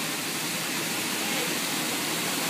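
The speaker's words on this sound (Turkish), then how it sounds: "şu an Düden Şelalesi'ndeyiz" Düden Waterfall heard from inside its cave: a continuous, even rush of falling water that fills the space as a steady broadband roar, with no talk over it.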